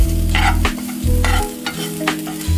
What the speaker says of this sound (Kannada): ಇದೆಲ್ಲ ಚೆನ್ನಾಗಿ ಫ್ರೈ ಆಯಿತು.